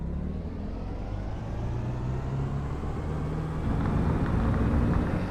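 Skip Barber race car engine in iRacing, lifting off briefly and then getting back on the throttle, a steady low drone that swells louder near the end with no talk.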